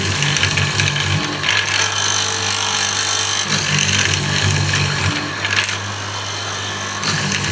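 A hollow chisel morticer bores into wood in a continuous loud grinding, chattering cut, close up, with a slight dip in intensity near the end.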